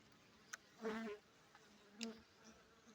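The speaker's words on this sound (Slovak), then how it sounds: "ako sú aktívne, tie včely sú ostré" Bees at a hive entrance in early spring, with a few individual buzzes zipping close past and fading, faint over a quiet outdoor background.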